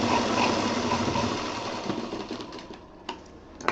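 A sewing machine stitches fabric for a picnic bag, running in a fast continuous whir up close before slowing and stopping with a few small clicks.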